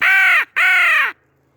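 A crow locator call used for spring turkey hunting, blown with a gargle to imitate a crow: two loud, harsh, drawn-out caws in quick succession, close and alone.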